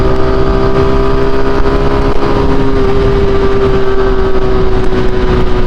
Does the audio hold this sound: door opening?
no